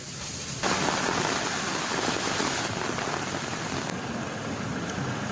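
Steady heavy rain pours down in Jammu, a dense continuous hiss that swells sharply after a quiet start and holds loud and even throughout, with no voices.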